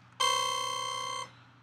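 A formant bass patch from Native Instruments Massive sounds a single sustained buzzy note of about one second, bright and harmonically rich with a slight vocal, wobbling quality, starting abruptly and fading quickly, heard alone.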